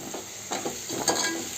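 Tomato, onion, green chilli, coriander leaves and mint sauté in a pan, with soft sizzling under several close scraping stirs of a spoon.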